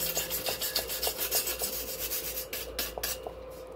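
A scouring pad scrubs galvanized metal tubing before welding: steady rhythmic rasping strokes, close and continuous, with a few sharper scrapes toward the end and no talk.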